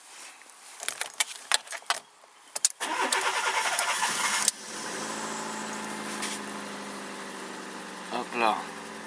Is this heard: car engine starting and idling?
yes